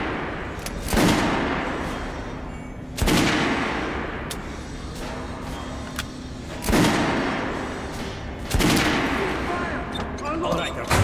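Guns fire at a shooting range in the video game Metro: Last Light, four heavy shots spaced a few seconds apart, each a sharp blast trailing into a long rumbling decay.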